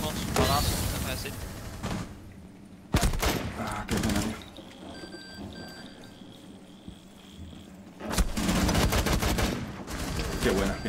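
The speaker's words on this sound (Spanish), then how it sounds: "Está dando unos balazos" Gunfire in the tactical shooter video game Rainbow Six Siege rings out in sharp bursts, loud volleys clustered at the start, around three to four seconds and again after eight seconds, with quieter stretches of game ambience between.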